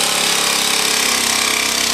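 A power tool cuts a laminate floor plank to follow a wall's profile, giving a loud, close, continuous buzzing whine with a rapid rattling pulse throughout.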